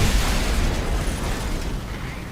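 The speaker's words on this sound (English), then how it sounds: "Let's order our artillery strike" Artillery strike in the tank game War Thunder ground forces, a dense continuous roar of explosions with heavy low rumble and no distinct gaps, loud and close throughout.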